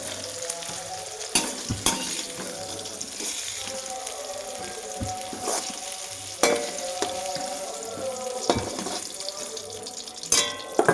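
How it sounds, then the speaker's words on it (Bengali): Pieces of drumstick, plantain and pumpkin fry in hot oil with a steady sizzle, punctuated by clattering spatula stirs and scrapes against the pan; faint talk is barely present. "ডাঁটা, কলা, কুমড়া সব আমি একসঙ্গে যেভাবে লাল লাল ভেজে নিয়েছি।"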